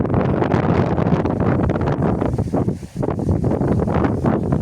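Steady wind roaring and buffeting the microphone outdoors, constant and loud throughout with a brief lull near the middle.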